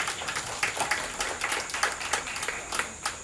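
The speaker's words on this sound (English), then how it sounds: "Let's give our land showman a round of applause." Audience clapping at a livestock show ring, individual claps distinct and fairly close, a brisk round of applause that thins out toward the end.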